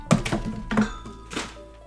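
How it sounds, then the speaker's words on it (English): A pop filter is knocked over at a home recording setup, giving a few dull thunks and clatters over about a second and a half, close to the microphone, with no talking. "I knock over my pop filter"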